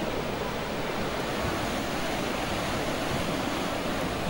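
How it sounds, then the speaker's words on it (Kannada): Gaganachukki waterfall in full flow after days of rain, a steady, dense roar of rushing water that fills the scene evenly from start to finish with no voices. "ಜಲಪಾತವು ತುಂಬಿ ಹರಿಯುತ್ತಿದ್ದು"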